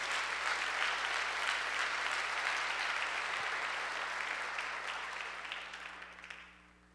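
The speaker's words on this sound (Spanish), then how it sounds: "Dale un fuerte aplauso a Jesús por eso." Sustained applause from a church congregation during a sermon, dense and steady clapping that gradually fades out toward the end.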